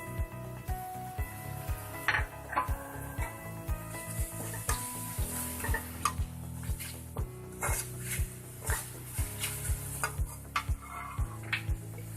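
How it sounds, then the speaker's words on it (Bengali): Chopped onion frying in a pan as ground coriander, chilli, turmeric and salt go in for a Bengali muri ghonto, with a steady run of spoon scrapes and clinks against the pan over a low sizzle, close and fairly loud. "এখন এখানে আমি ধনিয়া গুঁড়া, মরিচ, হলুদ এবং লবণটা দিয়ে দিচ্ছি।"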